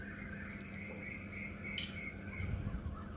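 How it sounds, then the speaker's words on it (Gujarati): Early-morning outdoor ambience in Kerala with small birds chirping and insects trilling steadily at a distance, faint and continuous over a low background hum. "પક્ષીઓના પ્રથમ કલરવથી ઉઠવાનું થાય છે"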